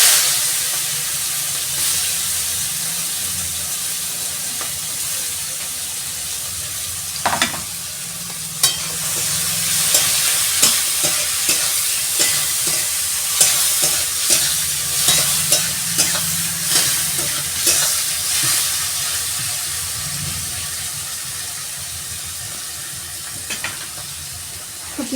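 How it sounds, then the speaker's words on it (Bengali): Onions fry in oil for a village-style mutton curry, with a constant close sizzle and hiss overlaid by repeated scraping and clinking strokes of a stirring spoon against the pan. "এরপর আমি এই পেঁয়াজগুলো এই তেলের মধ্যে দিয়ে দেবো।"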